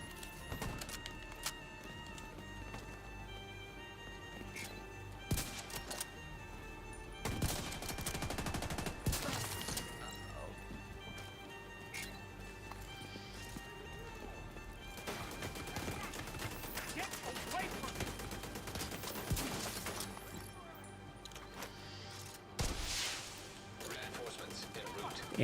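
Rapid bursts of video game gunfire from The Division 2 crackle and rattle throughout, with sharp louder volleys and impacts near the middle and end over a dense, busy game soundscape.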